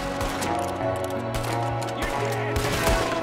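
Rapid gunfire in the Red Dead Redemption 2 game, a dense fusillade of shots over a continuous low musical drone, steady and loud throughout the stretch.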